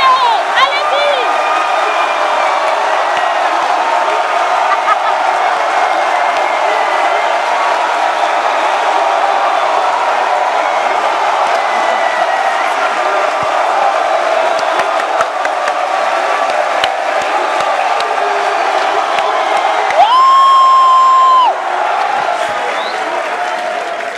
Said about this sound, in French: Vous faites exploser cet applaudissement.